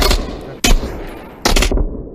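Shooter video game gunfire during a Downfall practice session: three loud, close gunshot bursts spaced apart, each with a sharp crack and short decaying tail, alone without talk.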